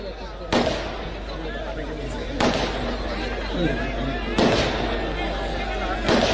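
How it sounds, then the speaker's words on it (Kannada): Firecrackers set off by fans at an election rally in Maddur crack as four sharp bangs at irregular intervals, cutting through a speaker's amplified voice and crowd noise. "ಪಟಾಕಿ ಯಾರು ಅಭಿಮಾನಿಗಳು ಹೊಡಿತಿದ್ದೀರಿ ಇನ್ ಕಡೆ ಬಹಳ ಸದ್ದಾಗ್ತಿದೆ"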